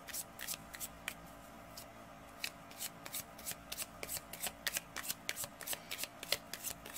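Cards are shuffled and drawn for a reading, giving a steady run of crisp riffling snaps and flicks that repeat rhythmically and close by over a soft background hiss, with no talking.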